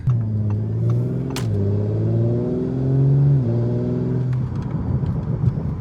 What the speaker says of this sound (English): that's maybe just a quarter throttle there, just getting up to speed limit